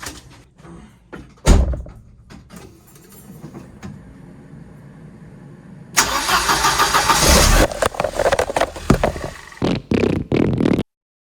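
A Mercedes-Benz 190E with the 2.0 engine, just fitted with a new valve cover gasket, cranks once and stops, then after a pause catches on the second try and settles into an uneven, sputtering run, close and loud.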